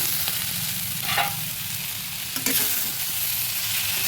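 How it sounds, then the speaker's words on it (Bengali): Winter vegetables sizzle and crackle in a hot pan, a steady frying hiss with a couple of brief stirring clatters, close and fairly loud. "আমার সবজিটা ভাজা ভাজা হয়ে গেছে"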